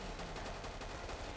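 Rapid gunfire bursts crackle in Killing Floor, a quick run of closely spaced shots that fills the brief moment at steady loudness.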